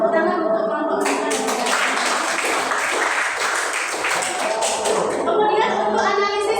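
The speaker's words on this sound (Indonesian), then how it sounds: "Tepuk tangan untuk kelompok mereka" A grade 8 classroom bursts into steady clapping for a student group, a dense patter that swells after a second and holds for several seconds, with children's voices mixed in.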